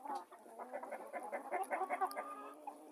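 New Hampshire hens and roosters cluck steadily in a lively, overlapping chorus, fairly close by, with no one talking.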